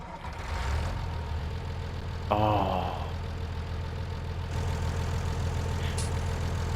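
A tractor engine in Farming Simulator 19 cranks over and settles into a steady, low rumbling idle that holds for several seconds, with a brief voice exclaiming once near the start.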